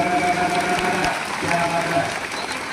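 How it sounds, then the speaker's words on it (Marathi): Loud, steady applause from a lecture audience fills the entire stretch, a dense wash of clapping with no pauses and a faint tonal hum running underneath. "वाजवा टाळ्या एकदा जोरात."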